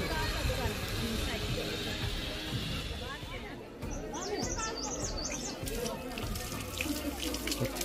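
Cold water runs steadily from a tap at Chandragiri hill near Kathmandu, a loud continuous gush with people chattering over it and faint birds chirping.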